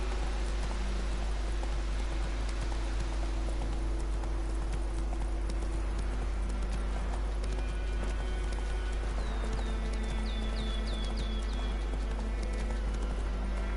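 Steady hoofbeats of a galloping horse in The Witcher 3 video game clop rhythmically over a constant background hum, with a few faint chirping tones near the end.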